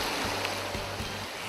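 Water flowing in a mountain valley stream at Yongchu Valley in Gapyeong, a steady, close broadband rush with faint low thumps.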